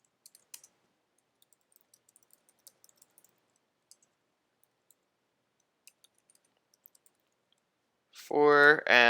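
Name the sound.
computer mouse clicking while editing a thumbnail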